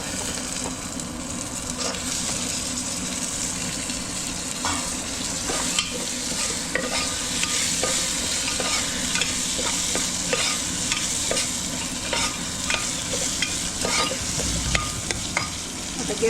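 Peanuts and field beans frying in a pan for bajra khichada: a steady, bright sizzle with frequent stirring scrapes runs throughout, close and fairly loud, with no talking.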